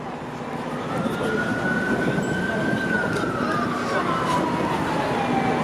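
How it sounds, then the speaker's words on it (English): A wailing emergency vehicle siren sweeps slowly up and down along Bay Street and Queens Quay East in downtown Toronto, heard at a moderate distance over steady city traffic noise. "I hear a siren."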